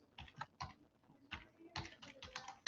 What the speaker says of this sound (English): I'm going to type in hamburger